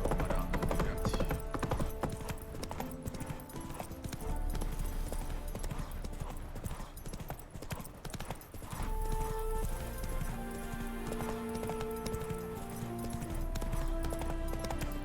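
Roach, a horse in The Witcher 3, gallops with a rapid, continuous clip-clop of hooves, loud and close, over game music with no pause.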